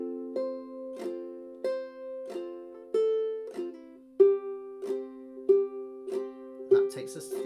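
A single ukulele thumb-picks the melody of I'll Fly Away with chord strums underneath, played in a steady rhythm of plucked notes, close and clear, with a brief strum at the end.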